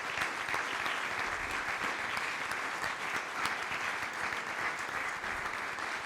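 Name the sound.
applause for Matteo Salvini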